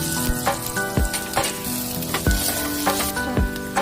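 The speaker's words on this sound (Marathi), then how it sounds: "यामध्ये आपण आता कांदा भाजून घेणार आहोत." Onion fries in a pan for a sandge rassa curry, with a bright, steady sizzle and crackle punctuated by repeated stirring scrapes at a brisk, regular pace.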